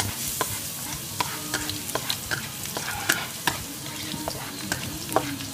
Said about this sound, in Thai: แล้วก็ตั้งน้ำมันลงไปแล้วนะ เรากระเทียมลงไปผัดเลย